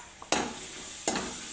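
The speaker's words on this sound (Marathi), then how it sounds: "आणि कांदा मसाला तिचा परतून घ्यायचं." Onion masala sautéed in a pan with ground chilli and garlic, giving a soft steady sizzle with two sharp scraping stir strokes close by.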